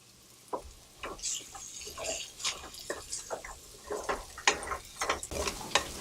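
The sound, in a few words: stirring prawns with fried onion in a bowl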